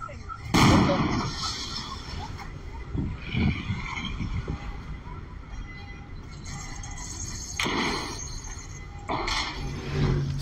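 Several sharp, loud gunshots ring out in bursts amid a noisy outdoor street market in Cuautitlán Izcalli, Mexico, cracks spaced a few seconds apart with commotion in between.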